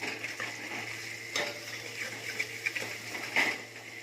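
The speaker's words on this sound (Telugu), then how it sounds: "ఈ అల్లం వేసిన తర్వాత ఒకసారి కలుపుదాం" A spoon stirring curry in a pot after fresh ground ginger is added, with soft scraping and clinks against the pan over a faint sizzle, a few louder strokes standing out near the end.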